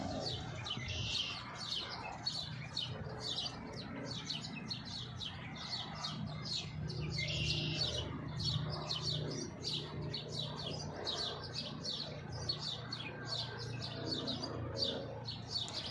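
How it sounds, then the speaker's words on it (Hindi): Sparrows and pigeons gather to peck at scattered feed on the ground in Canada, filling the air with dense, continuous chirping and tweeting at moderate distance over a low, steady background. "देखो तुम बनाओगी दुबारे मुड़ के नाल ही काटवा चिड़िया कबूतर सारे जानवर कट्ठे चोगा चुग रहे हैं"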